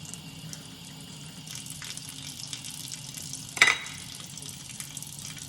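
Tap water runs softly and steadily over chile peppers being rinsed for chile relleno, with one brief sharper splash partway through.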